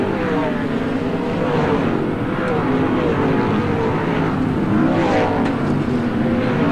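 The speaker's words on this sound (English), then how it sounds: "He's going around the outside of Bob Blacklaw, having all sorts of trouble with the Central District Smash Repairs car" A 1986 sprint car races down the straight at Premier Speedway, its engine a loud, sustained roar with a broad buzzing drone that holds steady and swells slightly as it passes.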